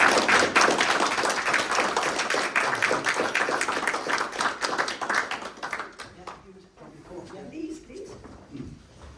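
A town meeting audience claps for volunteer Dave, a dense round of hand claps that fades after several seconds into sparse claps, a few voices and room noise.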